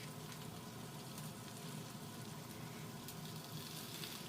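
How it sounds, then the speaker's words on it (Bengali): Pumpkin greens go into a hot pan, sending up a faint, steady sizzle with soft crackling that continues evenly throughout, no voices present. "এবার কুমড়ো শাকটা আমি দিয়ে দিচ্ছি।"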